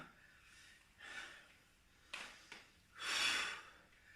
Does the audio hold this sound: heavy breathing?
yes